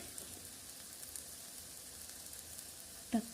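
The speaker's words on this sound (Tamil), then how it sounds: "நல்லா வதங்கின உடனே" Spices and ingredients sautéing in a pan on a home stove for a Tamil-style masala, a faint, steady sizzle and crackle throughout, with one brief clink near the end.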